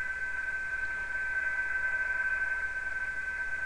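A PSK digital-mode signal received on HF through an IC-7000 transceiver, strong and overdriven: one steady, continuous tone sits over soft, constant static hiss, with no voices.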